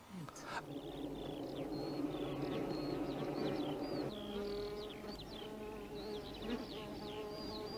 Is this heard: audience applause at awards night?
no